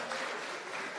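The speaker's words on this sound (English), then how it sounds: "Can we just give applause and have them raise their hands" Brief burst of audience applause for volunteers at an NYPD announcement, dense steady clapping from a crowd in a room.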